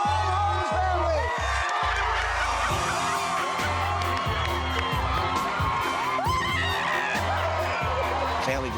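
A large crowd cheers, whoops and shouts continuously as a family arrives at their rebuilt home after Hurricane Charley, with children's voices and a pulsing beat underneath the noise.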